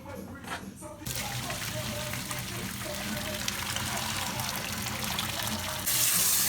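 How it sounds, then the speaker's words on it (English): Boiling water is poured off from a pot, splashing steadily into a sink, starting abruptly after a brief quiet moment and growing slightly louder near the end. "I'm just going to throw off the water."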